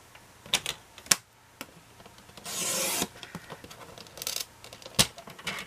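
Cardstock being cut for a handmade greeting card base: scattered dry clicks and taps, then a sustained rasping swipe of the cut lasting about half a second, followed by more light handling taps, close and fairly quiet.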